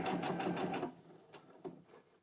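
A sewing machine stitching a fabric envelope runs in a steady, dense mechanical burst for about a second, then stops, leaving a few faint clicks and handling sounds.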